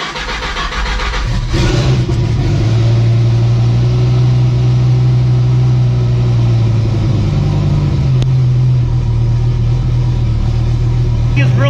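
A turbocharged Dodge Viper making 940 wheel horsepower on 15 pounds of boost runs loud and steady, with a deep droning engine note that climbs slightly partway through and then settles.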